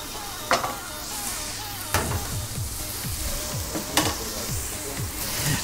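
Minced meat sizzling in a hot pan, a steady close crackle broken by a few sharp scraping stirs of a utensil, with no talk.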